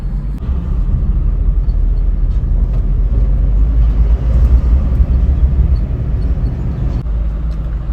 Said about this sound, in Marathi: ट्रॅफिक बघा जाम लांब ट्रॅफिक आहे पुरे दीड किलोमीटर पर्यंत ट्रॅफिक आहे